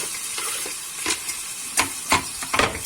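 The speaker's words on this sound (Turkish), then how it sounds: "Hemen soğan doğrandığı gibi arkadaşlar direkt tencereye kızgın yağ." Freshly chopped onions going straight into hot oil in a pot, a soft, close sizzle with several sharper bursts of crackle as they are stirred.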